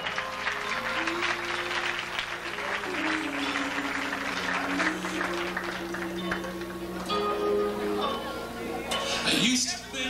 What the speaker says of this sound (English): Let's have a nice round of applause once again for the king, the queen,